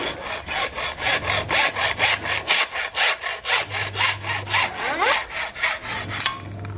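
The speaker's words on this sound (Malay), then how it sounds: "ni gergaji besi" A hacksaw cuts through a pipe in steady, rhythmic back-and-forth strokes. The rasping is loud and close, with about twenty even strokes and no talk.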